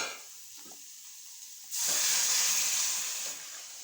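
Spices crackle and sizzle in hot oil in a pan while tempering for rasam, a quiet hiss at first that jumps to a loud, steady sizzle midway, then eases slightly toward the end.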